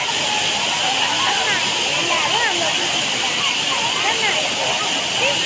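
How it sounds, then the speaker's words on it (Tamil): The Courtallam waterfall roars loud and continuous as people bathe beneath it, a dense rushing hiss with faint voices and shouts mixed into the spray. "பார்த்தீங்களா எப்படி வருதுன்னு குற்றாலத்தில் இருந்து தண்ணி"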